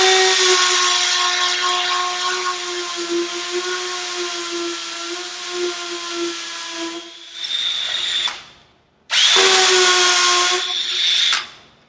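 A power drill fitted with a masonry bit bores a hole during a stairway door hinge installation, whining in a loud steady tone, then stopping and restarting in two short bursts before cutting off.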